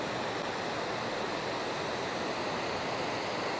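Steady, broadband rushing of a waterfall in Elora, Canada, constant and unbroken throughout, moderately distant with no voices.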